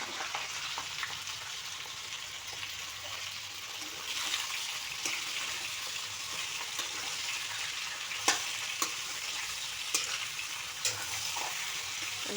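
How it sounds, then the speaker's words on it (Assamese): Jujubes (boroi) sizzle steadily in hot oil for a sweet-spicy Assamese pickle, a continuous broadband frying hiss with a few sharp pops and clinks near the end, fairly quiet and unbroken. "ইয়াত তেলখিনি গৰম হৈ গ'ল। এতিয়া ইয়াতে বগৰীখিনি ঢালি দিছোঁ।"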